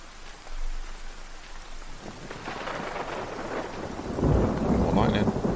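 Thunder rumbles and steady rain falls in the video game Everybody's Gone to the Rapture, the downpour hissing throughout and swelling louder toward the end with a deep roll of thunder.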